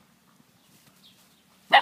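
After near silence, one sharp, loud bark bursts out close by from a dog playing with children in Kamed El-Laouz, Lebanon.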